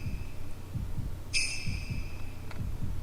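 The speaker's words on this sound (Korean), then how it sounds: "내 심장 소리." A heartbeat sound effect in the horror video game Shadow Corridor: steady low thumps about once every three quarters of a second under a faint hum, with a brief high chime cutting in partway through.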